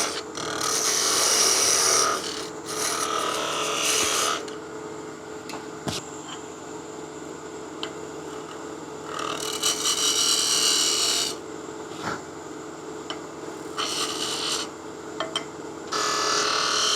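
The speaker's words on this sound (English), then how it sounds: "Just gonna use my parting tool to get this bead" A parting tool cuts a bead into a wooden salt and pepper mill on a wood lathe. Steady scraping and rasping sits over the lathe hum, swelling into bright, harsh bursts of cutting and dropping back between passes, close and continuous.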